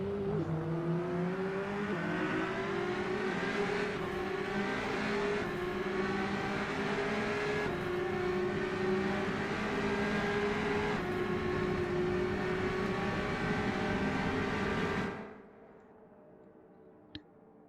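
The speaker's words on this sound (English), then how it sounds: "the low rev engine volume is a little bit off-putting in Rennsport" A race car engine in the racing video game Rennsport holds a steady low-rev drone with a layered whine, rising slightly in places for about fifteen seconds before cutting out abruptly, leaving near silence and a faint click.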